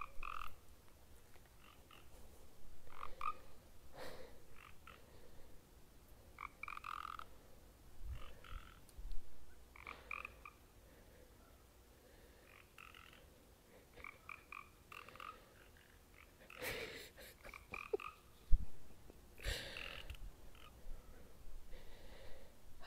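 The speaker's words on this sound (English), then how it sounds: "Listen, the frog is agreeing." Frogs croak in a scattered chorus, with repeated short calls, some nearer and louder and others faint, rising over a quiet background and broken by a few sharper bursts.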